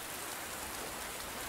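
Steady rainfall in the survival game Under a New Sun, a dense, even hiss of drops falling continuously at low volume with no voices.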